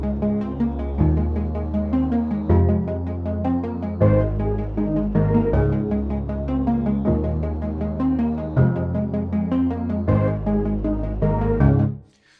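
Layered low string parts from the Native Instruments Low End Strings library play together in a deep, throbbing, sustained passage of repeating bass phrases, running loud and continuous before cutting off abruptly at the end.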